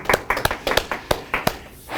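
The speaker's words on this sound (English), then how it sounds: "I will applaud for you all." A keynote speaker claps for the audience in a hall, a short burst of about ten quick, close hand claps with no talking over them.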